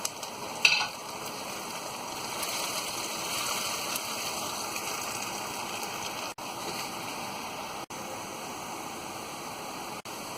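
Onion, ginger and garlic paste fries in a pan for bhuna chicken, a soft steady hiss of frying with a brief louder clatter near the start.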